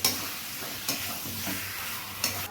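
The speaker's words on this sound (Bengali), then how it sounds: "এটা কষতে কষতেই সেদ্ধ করতে হবে এই লেভেলে কষতে হবে" Chicken browning in a pan for Bengali-style chicken kosha, a steady low sizzle broken by a few sharp scrapes and clinks of a spatula stirring against the pan.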